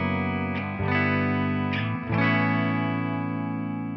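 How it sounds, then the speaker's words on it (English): Electric guitar played through a Tonex pedal with a Deluxe Reverb 65 amp capture, a few sustained strummed chords ringing with effects and reverb, clean and close, no talking. "I'm using a Tonex with a Deluxe Reverb 65 capture."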